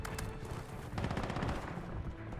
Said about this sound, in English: Before long, gunfire changed her route as well.